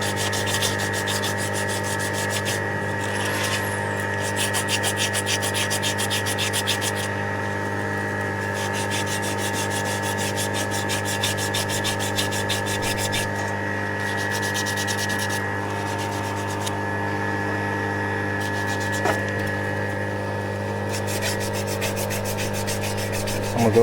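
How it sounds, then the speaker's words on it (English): Steady scratchy rubbing of sandpaper on copper pipe on an HVAC compressor line, continuous and close, over a constant droning hum of machinery. "I'm gonna go ahead and sand this down just in case I decide to cut it"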